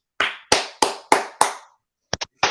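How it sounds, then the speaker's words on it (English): Hands clapping close by: five sharp, evenly spaced claps, then after a brief pause a quicker pair and one more clap, with nothing else behind them. "you were clapping"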